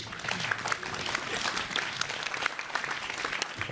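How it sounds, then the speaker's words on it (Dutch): An audience claps loudly and steadily at an indoor event. The applause is dense and sustained, close by, with faint voices mixed in. "graag nog 1 keer een groot applaus"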